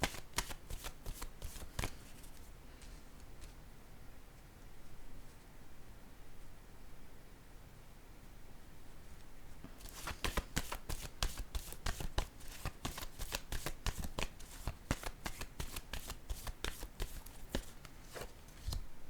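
Playing cards riffled and shuffled by hand, a soft rustling run of flicks that breaks into a denser burst of rapid, crisp snaps in the second half, close and alone.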